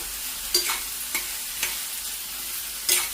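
Okra fry sizzles in a pan with a soft background hiss, broken by four sharp scraping stirs of a spatula spaced unevenly, close by and with no voices.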